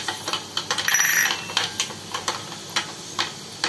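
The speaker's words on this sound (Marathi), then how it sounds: "तेल गरम झाल्यानंतर आता आपण त्याच्यामध्ये 1-2 चमचे मेथ्या टाकूया." Fenugreek seeds, one to two spoonfuls, dropping into hot oil while mango pickle with ginger and garlic is made, giving a string of short crackling spits and sizzles, close and fairly quiet, with no voices.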